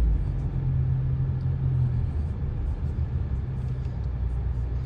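Ram Rampage R/T pickup rated over 300 horsepower, its engine and road rumble steady and close from inside the cabin as it drives toward the highway, a low hum holding throughout with no talking.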